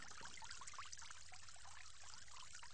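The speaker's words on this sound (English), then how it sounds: "You will go ahead and rinse and wash both your hands 3 times, starting with the right." Water trickles and splashes steadily close by while hands are rinsed during Islamic ablution (wudu) before prayer. The flow is soft and continuous, with no talking over it.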